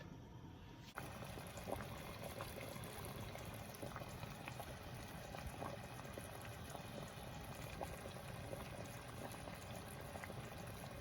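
Spicy South Indian salmon curry with boneless, skinless fish bubbles steadily in a pot, a continuous soft simmering burble with small pops, close and even throughout after a brief quieter start.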